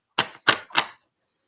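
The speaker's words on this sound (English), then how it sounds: "For a brand new deck, it shuffles beautifully." A brand new deck of playing cards is shuffled up close in three short, even ruffling bursts, each ending with a soft riffle, followed by silence.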